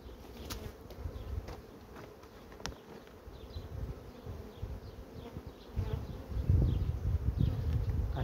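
A swarm of honey bees hums steadily around a beehive during an artificial swarm split, a dense continuous buzz with a few louder swells near the end, alone without talk.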